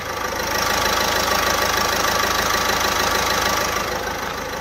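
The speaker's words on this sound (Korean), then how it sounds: "지금 바로 엔진 소리 한번 자세하게 들려드릴게요" A domestic Korean SUV engine, 60,000 km on it, idles steadily at close range with the hood open, a continuous even rumble with a faint rhythmic knock underneath and no voices.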